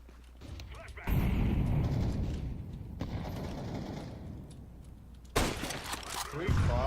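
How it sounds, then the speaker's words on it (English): A flashbang grenade goes off in Counter-Strike 2, with sharp bursts of broadband game combat noise and a loud blast near the end, partly under a player's voice. "Throwing a flashbang."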